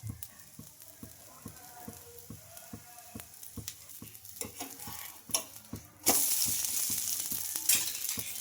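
Oil crackling and sizzling under a carrot masala dosa on a pan, with a regular tapping rhythm of spatula strikes and a sudden louder, brighter burst of frying hiss near the end; no talk.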